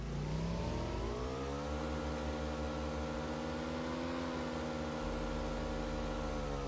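A motorbike in the mobile game PUBG Mobile drones with a steady engine hum that rises in pitch as it speeds up, then holds a constant whirring tone, loud and unbroken with no talking.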